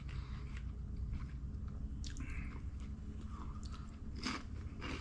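Someone bites into a crunchy spring roll and chews it up close, giving a few quiet, crisp crunches with soft wet chewing sounds in a hushed setting.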